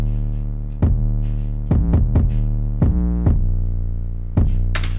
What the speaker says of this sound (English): the 808 that I'm using is this guy right here